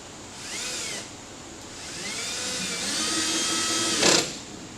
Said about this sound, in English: now we are ready to fasten the entire system to the wall with the torque screws